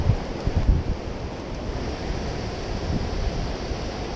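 Wind roaring over the microphone on a beach while cycling on hard sand, a steady broadband rush with a few low gusty thumps near the start and no voices.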